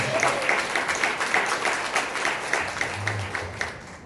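Audience at a business training seminar applauds together, a dense, steady wash of clapping filling the room for the full stretch, with a few murmured voices beneath it.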